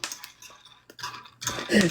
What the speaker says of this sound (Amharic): ቡና በሹካ እየተማሰለ